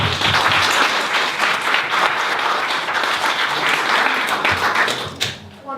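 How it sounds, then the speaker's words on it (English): Dense, loud applause from an audience at a bilingual Tohoku 2015 event with Harker School and Ishinomaki students, a continuous wash of many hands clapping that tapers off at the end. "So let's give her a big round of applause."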